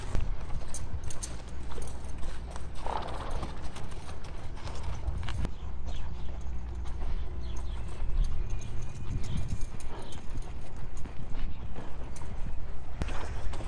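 An older, calm racehorse walks toward the receiving barn, its hooves clip-clopping steadily under continuous outdoor crowd and ambient noise.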